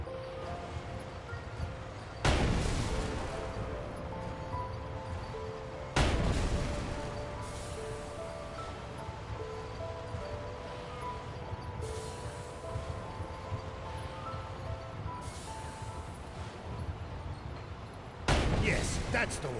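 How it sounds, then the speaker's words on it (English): Heavy tank main cannon blasts in the Sand Land video game, three loud booming shots spaced several seconds apart over a steady rumbling game soundtrack. "A blast from the main cannon should blow it all away."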